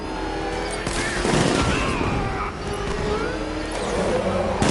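Gunfire in Batman: Arkham Knight during a vehicle chase, a continuous rattle of shots under roaring engines and shouted voices, dense and loud throughout.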